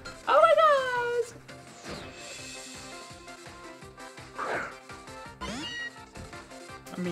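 Meowth's cry from Pokémon Ultra Moon sounds as a bright rising meow, followed by game music and chiptune effects, with further short cries partway through.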